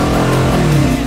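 A Dodge Challenger V8 engine revs loudly and close up in one brief, throaty burst with a deep rumbling tone.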